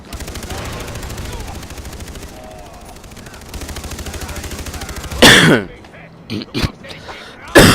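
Steady Far Cry 3 in-game gunfire runs for several seconds, then a person coughs a few times close to the microphone, harsh and abrupt.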